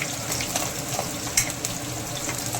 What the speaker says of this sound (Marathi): तेल गरम झालेलं आहे आणि तळून घेत आहे कांदा घातलेला आहे